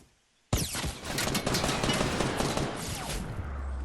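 Rapid gunfire from a console video game build fight crackles loudly and continuously after a brief silence, dense bursts overlapping for several seconds with game sounds mixed in.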